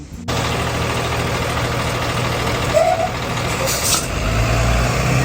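A school bus sits idling with a steady low diesel rumble close by, then lets out a hissing burst of air brakes near the end.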